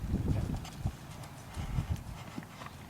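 A horse trotting, heard as a steady muffled clip-clop of hooves close by, with no talk over it.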